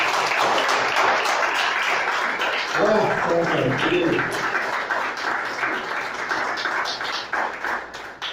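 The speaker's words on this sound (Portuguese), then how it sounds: "Vamos aplaudir o Senhor." A church congregation applauding during a Portuguese-language worship service, a dense steady patter of many hands under a preacher's voice that carries through the middle of the clip.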